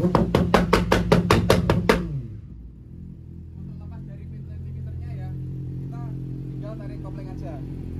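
A Yamaha R6 sport bike fitted with a quickshifter gives a burst of loud, rapid throttle blips in sharp rhythmic pulses, then drops to a steady idle rumble as someone speaks over it.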